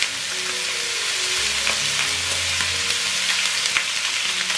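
Chicken pieces being stir-fried with peanuts in a dry wok with no oil, a steady close sizzle with scraping stirs and occasional clacks of the spatula against the pan, no talking.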